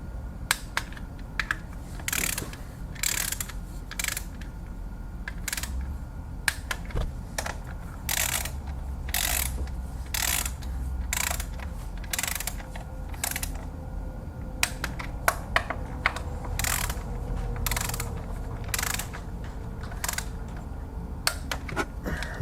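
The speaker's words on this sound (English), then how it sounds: "I'm going to tighten this one first, do all the way down, and then I can plug in this last wire" Rapid mechanical ratchet clicks from a socket wrench tightening the ignition coil bolts on a 2015 Toyota Corolla engine during a spark plug and coil install, coming in repeated close bursts with short pauses between them and no talk.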